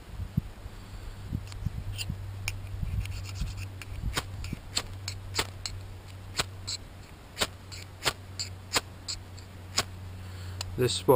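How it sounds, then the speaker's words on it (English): A steel scraper is struck against flint to make fire-lighting sparks, giving a series of a dozen or more sharp, dry scraping strikes at irregular intervals over a low steady hum. "You don't get a good spark off of this with this scraper."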